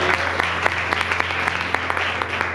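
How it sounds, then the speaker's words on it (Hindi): A church congregation claps together in a sustained burst of applause, steady and fairly loud, with individual claps blurring into a continuous wash and no voices standing out. "ताली बजा सकते हैं इनके लिए?"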